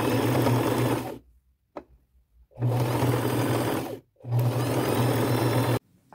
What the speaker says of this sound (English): I'm going to go get those sewn